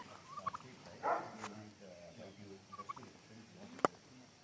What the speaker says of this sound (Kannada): ಇದು ಟರ್ಕಿ ಕೋಳಿ ಏನೋ ಅಂತಿರಲ್ವ